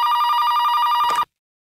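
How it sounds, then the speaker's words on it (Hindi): A telephone bell rings loudly in a home, one steady continuous trill that cuts off abruptly into silence. "फोन की घंटी बजी है"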